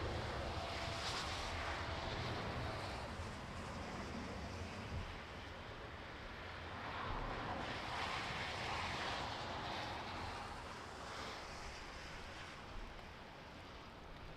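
A fixed-wing airplane lands at Lisbon Airport in strong wind, a faint distant engine roar mixed with gusty wind noise rising and falling, steady throughout with no voices.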